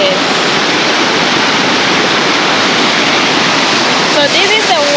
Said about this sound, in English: So this is the waterfall.